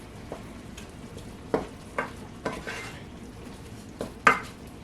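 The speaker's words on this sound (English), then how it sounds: "We get that stirred up, broke on up here while we browning this here meal." Ground meat browning with spices in a pan, stirred and broken up, giving a quiet sizzle under a series of sharp spoon or spatula scrapes and knocks against the pan, about half a dozen spaced strikes.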